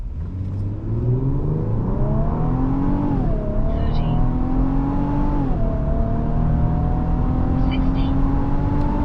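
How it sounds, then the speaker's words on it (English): A 2025 Infiniti QX80 SUV accelerating hard from a stop in a 0 to 60 run, its engine note climbing steadily through two gear shifts, loud and close from inside the cabin. "let's go do some 0 to 60 tests up next. From idle and then from boost."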